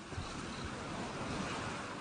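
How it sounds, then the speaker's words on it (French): Ocean waves wash steadily onto a sandy beach in a continuous broadband surf roar, with a light hiss of wind across the microphone and no voices. "Écoute le son des vagues"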